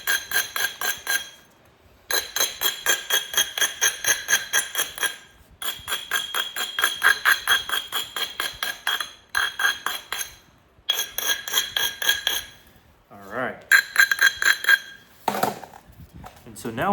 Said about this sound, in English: I'm going to take this abrader here and really get to work shearing off a lot of the fragile areas